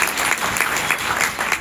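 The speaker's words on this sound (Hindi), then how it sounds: "चेतना भाटी मैडम के लिए एक जोरदार तालियां बजाएं" A school Republic Day event audience claps loudly for a deputy SP's promotion to additional SP, a continuous burst of many hands with rhythmic swells, close and full, with no voices over it.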